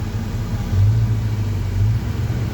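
A 1975 Chevy C10 pickup engine idling after a cold start, a steady low rumble with a brief rise in intensity midway, close and continuous with no talking.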